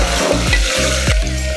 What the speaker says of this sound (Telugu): ఇప్పుడు మనం కట్ చేసి పెట్టుకున్న క్యారెట్ అండ్ ఆలు, క్యాప్సికమ్ 3 వేసుకోవాలి.